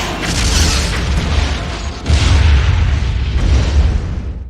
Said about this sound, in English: the car just flies off the Yeah, pier and blows up.